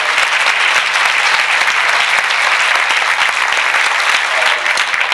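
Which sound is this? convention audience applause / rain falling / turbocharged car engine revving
convention audience applause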